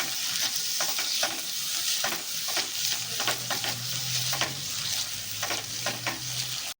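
Chopped onions sauté and sizzle steadily in a hot pan while being stirred, producing a continuous frying hiss with soft scraping stirs, close and moderately quiet, no talking.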